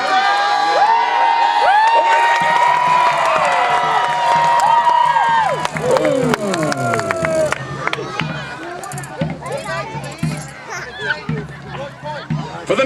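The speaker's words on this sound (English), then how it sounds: "So join me with a massive cheer as our marshal commences the tournament." A crowd at a medieval jousting tournament cheers and shouts loudly and continuously, mixed with a voice and sharp tonal sounds early on, then livelier crowd noise with hoofbeat-like thuds as the tournament begins.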